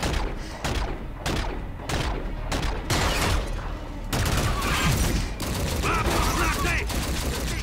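Sci-fi gunfire from Call of Duty Infinite Warfare rattles out in loud, steady bursts of rapid shots, mixed with thuds and mechanical clatter, while a voice talks intermittently.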